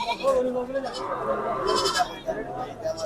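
Goats bleat at a busy cattle market during Eid sacrifice season, several repeated calls rising over constant crowd chatter and talk close by.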